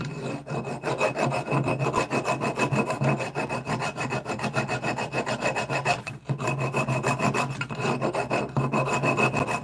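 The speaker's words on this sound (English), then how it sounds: "work on the corners first because they're more prouder, and then we'll sort of feather the file on the face to finish it off" A hand file rasps on the corners of slots cut in a metal e-bike hub motor, steady back-and-forth strokes with one brief pause, close and moderately loud with no talking.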